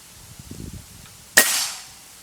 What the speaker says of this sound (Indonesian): Tembakan yang 7 ya terakhir untuk gropingnya.